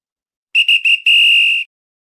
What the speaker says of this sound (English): It is 4th down and it's the final whistle.